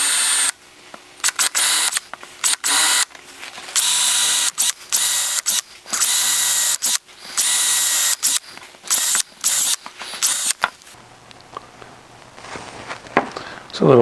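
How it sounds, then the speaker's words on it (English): Repeated bursts of a power drill whirring at high speed while drilling holes in wood, stopping and starting in an irregular rhythm, close up, with quieter gaps between. "then we'll drill those holes out"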